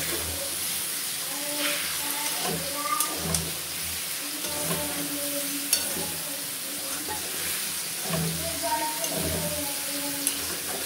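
Steady sizzling and scraping of a spatula stirring turmeric into a potato and soybean curry frying in a pan, with rhythmic stirring strokes over a continuous hiss of hot oil.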